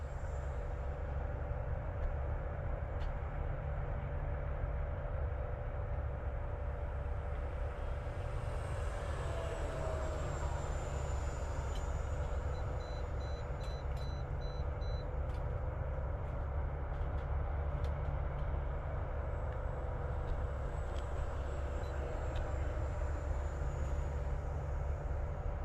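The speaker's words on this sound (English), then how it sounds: "Little night flyer EDF." FMS Futura 64mm electric ducted-fan model jet flies at sunset, giving a continuous high whine over a steady low rumble whose pitch shifts slightly as it passes, heard at a distance without talk.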